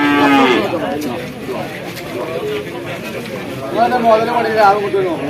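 A young buffalo lows repeatedly, close by, its drawn-out calls rising and falling, with people chattering in the background.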